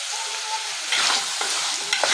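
Bitter gourd masala curry sizzles steadily in a pan while a spoon stirs salt through it in three distinct scraping strokes, close and clear, with no speech.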